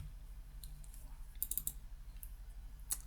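Number keys tapped on a computer keyboard while solving sudoku, as faint, close, irregular clicks that bunch into brief flurries over a low background hum.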